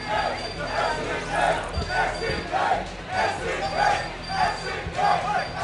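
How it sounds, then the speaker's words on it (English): Crowd cheering at a King of Fighters XIII fighting game tournament, top 16 winners match, with rhythmic, pulsing chants from the audience repeating steadily throughout, loud and close with some speech mixed in. "People in the crowd are cheering."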